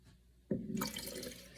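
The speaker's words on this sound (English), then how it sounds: "So just pour some of your kombucha into the jar for your SCOBY to feed on." Kombucha is poured into a jar, a sudden close liquid gush that keeps splashing steadily for about a second.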